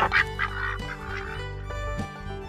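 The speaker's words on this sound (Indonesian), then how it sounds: "Ternyata ini ada bebek warnanya warna putih." Ducks quacking in a few short, nasal calls over a steady background tone, fairly close and clear.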